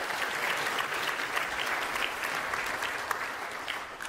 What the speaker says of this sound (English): If one person claps, we all have to.